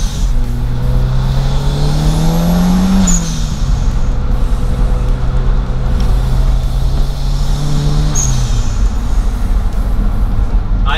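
Lotus Esprit Turbo SE driving, heard from inside: a loud steady engine drone with two rising-then-dropping gear changes, and road rumble running underneath the whole time.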